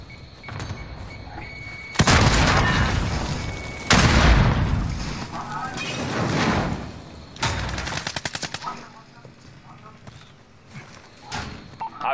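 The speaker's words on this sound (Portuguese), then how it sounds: "Granada de concussão lançada." A concussion grenade goes off in Call of Duty Warzone, a loud booming blast amid bursts of gunfire and other explosions during a match, with sharp percussive hits spread across the stretch.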